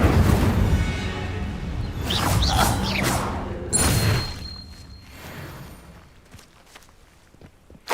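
A fire spell cast in the Hogwarts Legacy video game at an encampment: a loud whooshing burst with thuds and mechanical clatter, then fading crackles and small impacts, with no talk over it.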